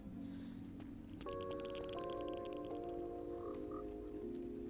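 Tonal game sounds from Minecraft play in a steady layered texture, a frog in a Skyblock world croaking among stacked sustained notes and faint background noise, with no talking.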